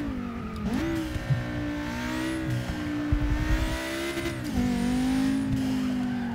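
A hatchback, either a Volkswagen R or an Audi RS3, accelerates hard on a track, its engine note climbing through the gears with brief dips at each shift, close and steady, with faint tyre noise.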